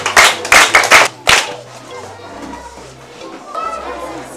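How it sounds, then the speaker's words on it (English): At a quiz contest in a Ghanaian Twi movie scene, a few quick rounds of clapping ring out up close at the start, then fade into quieter chatter and background voices. "Clap for him."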